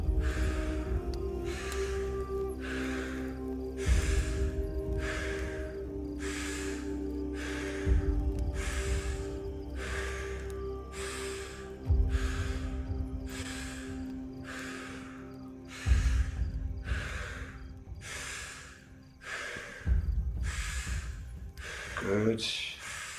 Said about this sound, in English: Just keep that breathing flowing. Just keep that breathing circular.